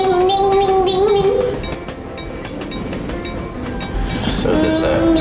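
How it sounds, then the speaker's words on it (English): A cargo train rolls around a mountainside, a loud, steady rumble with repeated wheel clicks and a brief horn-like tone, while a voice talks over it. "So this looks like a cargo train, maybe?"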